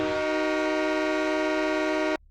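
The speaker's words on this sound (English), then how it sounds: "they just wanted all their horns to be loud, so they got a train horn" A Roblox fire truck's train horn blasts loud and steady at full power, one sustained chord-like tone lasting about two seconds before cutting off abruptly.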